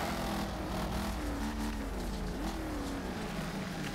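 Racing car engines in the video game Wreckfest drone steadily throughout, with shifting revs and a whine that rises and falls as cars race closely, loud and continuous with no talking.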